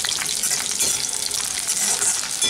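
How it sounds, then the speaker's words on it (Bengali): Dal bori, small dried lentil dumplings, frying with garlic in hot oil, giving a loud, dense, continuous sizzle with crackling spatters close up. "বড়িটাকেও রসুনের সাথে ভেজে নিচ্ছি।"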